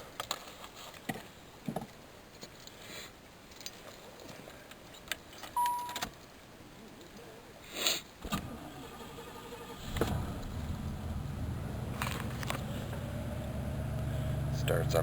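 A 1988 Chevrolet Caprice Classic engine cranks and catches around the ten-second mark after keys jangle and scattered handling noises, then settles into a steady low running rumble close by.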